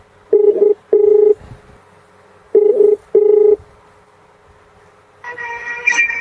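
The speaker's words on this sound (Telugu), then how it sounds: "లైవ్ లోకి వెళ్ళి ఫోన్ చేస్తున్నా" Telephone keypad dialled to place a live phone call: four sharp touch-tone beeps in two quick pairs, close and loud, followed by a higher buzzing line tone as the call connects.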